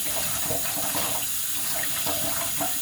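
Tap water runs steadily into a sink while greens for soup are washed, a constant close splashing hiss with faint irregular sloshes.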